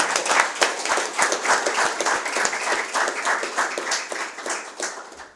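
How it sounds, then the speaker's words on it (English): Audience at a panel forum on Grenada's independence and sovereignty applauds students, a dense, steady wash of many hands clapping that holds for several seconds at moderate volume. "A round of applause for our students."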